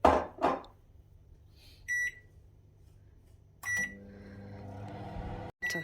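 A microwave oven heating butter, with a low steady hum starting mid-way, a few short electronic beeps from the keypad and a final beep at the end, plus some brief handling clatter at the start.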